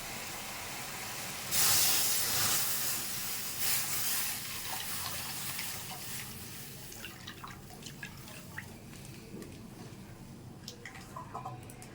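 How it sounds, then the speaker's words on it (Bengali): Milk poured into a kadai holding a little water, a hissing, rushing pour at close range that peaks early and then settles into scattered drips and faint sizzles, no talk. "এবার দুধটাকে দিয়ে দিচ্ছি।"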